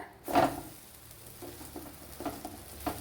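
Egg and banana toast frying in a pan and being flipped, with a soft scrape and brief sizzle burst near the start, then quiet crackling and light taps.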